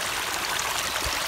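Mountain stream flowing steadily along the Appalachian Trail, a continuous broad rushing wash of water heard up close with no voices.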